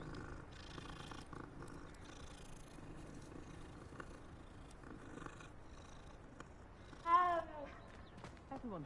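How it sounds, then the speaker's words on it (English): A cat in the video game Hogwarts Legacy purrs softly and steadily while being petted, a faint continuous rumble under quiet game ambience, with a short, louder meow near the end. "I'm gonna keep petting Kitty"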